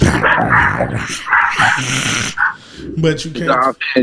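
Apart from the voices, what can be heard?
dog barking in the background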